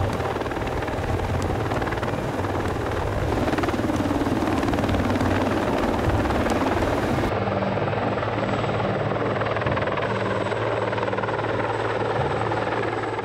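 A CH-53 helicopter flies with an underslung load, a loud, continuous rotor and turbine roar that stays steady and close throughout with no speech.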